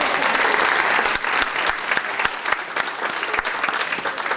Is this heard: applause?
yes